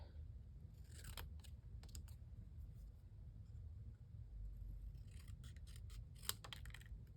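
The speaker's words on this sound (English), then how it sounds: "And I'm just trimming this down so that it's smaller" Scissors snip through a paper notecard in short bursts, a few crisp cuts early and then a quicker cluster of snips later, quiet and close with no talking.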